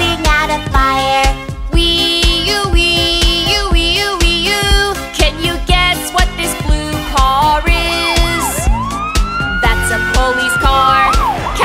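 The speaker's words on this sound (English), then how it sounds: "That's an ambulance going to the hospital." A wailing emergency siren rises and falls over bouncy background music, loud and close, its sweeping tone most prominent toward the end.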